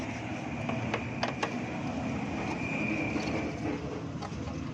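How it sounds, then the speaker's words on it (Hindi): A steady metallic rattling and clicking from a running motorcycle chain, with occasional sharp ticks over a continuous mechanical drone. "ये अंदर चैन बहुत आवाज़ दे रही है"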